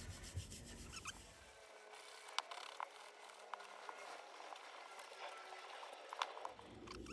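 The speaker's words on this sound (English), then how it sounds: "I'm just using a very fine grade sander just to knock it back." Light hand sanding of a wooden and acrylic dice box with a very fine grade sander, a soft, steady rubbing hiss with faint scrapes, quiet and close.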